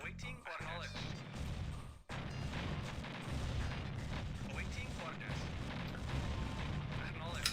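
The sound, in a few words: artillery fire in the video game C&C Red Alert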